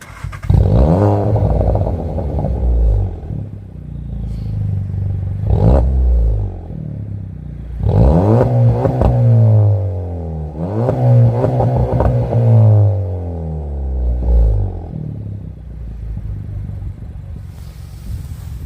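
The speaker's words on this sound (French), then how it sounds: "je veux bien écouter le petit son moteur." Audi A3 engine running up close, with repeated revs that rise and fall in several bursts over a steady idle rumble, no talk.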